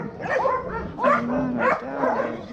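Multiple dogs at a shelter in Huanchaco, Peru bark and yelp in a noisy chorus, with high whining yips and repeated barks close by, in bursts about every half second.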